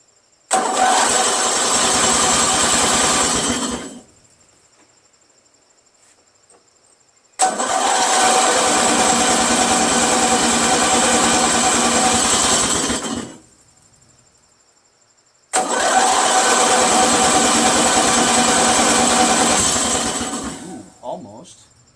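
A Briggs & Stratton 16HP opposed twin engine being revived cranks over in three loud, sustained bursts of several seconds each, separated by silent pauses.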